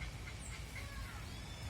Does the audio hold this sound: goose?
yes